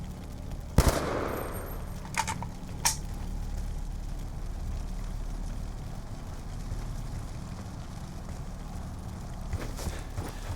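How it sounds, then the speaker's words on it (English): Gunfire in Call of Duty Black Ops 2: a few sharp, separated shots at the start and one more near the end, over a steady low background rumble with no voices. "Who's shooting, man?"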